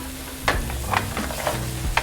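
Four cloves of minced garlic and lime zest sizzle in a hot pan, a close steady fry broken by several sharp scraping stirs of a utensil across the pan, with no one talking.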